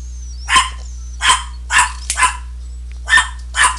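A dog barks six times in separate spaced bursts, loud and fairly close, over a steady low hum, with no talking.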